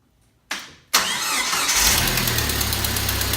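A Jeep YJ engine cranks briefly, then catches and roars to life, settling into a loud, steady idle with a low rumble.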